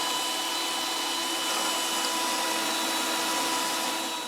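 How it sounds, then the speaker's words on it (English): A power drill fitted with a grinding stone whines steadily while shaping a homemade arrow, a continuous high buzzing hum with no pauses, close and loud. "we put a grinding stone in our drill"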